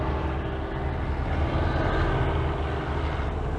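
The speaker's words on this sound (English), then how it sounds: "As a helicopter just took off" Helicopter lifting off from Billy Bishop Toronto City Airport on the island, a steady broad engine and rotor roar heard at a distance across the waterfront, continuous and even throughout.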